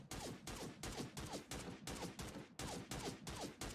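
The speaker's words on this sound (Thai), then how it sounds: "โอนั่นมีคนยิงมาอีกแล้ว" Rapid gunfire rips through a PUBG-style battle royale match, with about eight sharp, loud bursts repeating in a regular, rhythmic string.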